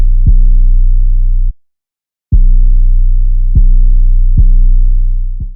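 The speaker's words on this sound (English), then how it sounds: "I picked this 808 because one, it's super simple, and two, it just has like a super hard punch at the beginning." Deep, sustained 808 bass notes with a hard punchy attack in a simple pattern from an FL Studio beat, long booming tones broken by one short gap, loud and alone.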